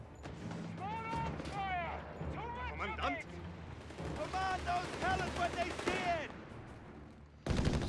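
Infantry machine guns fire in a Company of Heroes 3 skirmish, with light tanks and bikes nearby. The bursts sit low under steady commentary, and a louder burst comes right at the end.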